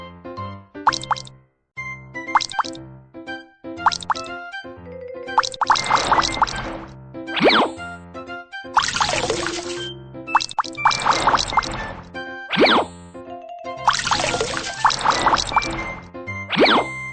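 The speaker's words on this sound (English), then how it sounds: "Tap to wring water out." Cartoon water sounds as washed clothes are wrung out, a run of bright plops and drips that builds into splashy bursts and trickles of pouring water, lively and close.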